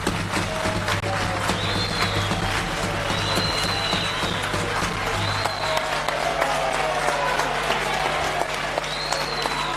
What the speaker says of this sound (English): Allow us to clap.